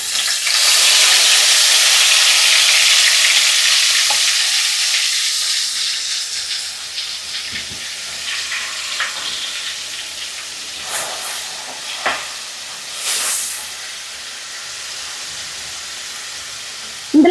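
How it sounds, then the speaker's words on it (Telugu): Onion paste hits hot oil for a crab curry, bursting into a loud, bright sizzle that gradually settles into a quieter hiss with occasional spoon scrapes. "ఎర్రగడ్డని మెత్తగా పేస్ట్ చేసి పెట్టుకుని ఎర్రగడ్డ పేస్ట్ నూనెలో వేస్తాను."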